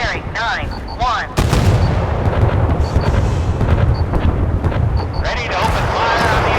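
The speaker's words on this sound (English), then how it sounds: "Ready to open fire on the enemy." Warship guns fire at an enemy target in a naval video game, a heavy, sustained booming roar with a sudden onset. Electronic beeps and synthetic sweeping tones sound over it.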